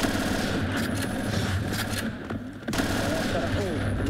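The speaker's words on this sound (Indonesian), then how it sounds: "Jadi spam tembakan." Rapid bursts of gunfire from the video game Point Blank in a 2017 esports semifinal crackle continuously over a dense, noisy background, with voices talking throughout.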